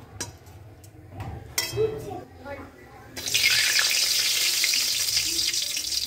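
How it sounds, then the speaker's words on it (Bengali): Papad frying in hot oil for khichuri: after a spell of quieter kitchen clatter and a voice, a loud, dense sizzle bursts in and holds steady to the end. "সব থেকে ফার্স্টে আমি পাঁপড়গুলো ভেজে নেব"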